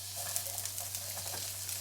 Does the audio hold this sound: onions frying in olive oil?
yes